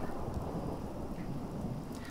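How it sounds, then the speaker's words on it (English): Steady rain falls in the video game Fallout 4 while low thunder rumbles underneath, a dense, continuous wash of rainfall with a faint, distant roll of thunder and no voices. "The thunder rumbling in the background."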